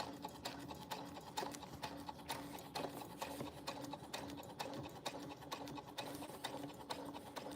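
A sewing machine stitches a fabric bag with a fast, steady mechanical chatter, close and continuous with a regular rhythmic pulse throughout.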